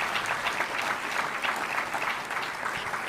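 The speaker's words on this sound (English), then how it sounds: "Give that a round of applause, please." Audience applause at a press event on a Philadelphia arena deal, an even, sustained burst of many hands clapping from a crowd, heard alone at moderate volume.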